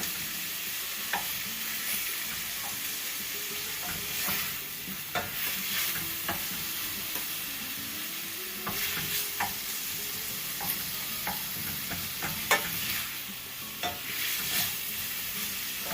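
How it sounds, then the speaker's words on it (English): Chicken pieces fry in a hot pan for arroz valenciana, giving a steady sizzle with scattered stirring clacks and scrapes throughout, close and alone without talk. "For the chicken not to stick on the pan, you want to make your temperature a little bit high"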